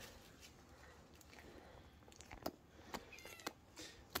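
A cat gives a few faint, brief meows amid very quiet background noise, with scattered soft taps and rustles toward the end.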